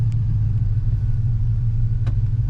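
A Chevrolet Silverado truck with a swapped 4L80e transmission drives in second gear, with a steady loud low engine rumble close by and no talk.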